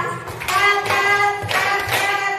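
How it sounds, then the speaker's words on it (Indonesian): Hands clapping in a rhythm drill, a few sharp claps spaced across a couple of seconds over music, loud and close. "Oke, tepuk 5 kali"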